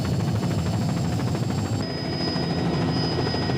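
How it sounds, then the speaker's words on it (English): An RCMP helicopter passes overhead during security for the 1995 Halifax summit, its rotor chop and engine whine loud and steady throughout, with no talking. "the speed, the versatility, and the maneuverability of the RCMP helicopters makes them perhaps the single most valuable asset in the summit security arsenal."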